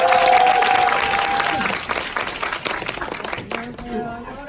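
Sustained applause from an audience at a business school speech event, steady and dense clapping with a brief voice heard over the start.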